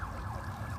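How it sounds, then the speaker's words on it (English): A wailing emergency siren on a Hollywood street near Sunset Boulevard, a steady rising and falling tone heard continuously at moderate distance with low traffic rumble underneath. "nice silent sirens here in Hollywood"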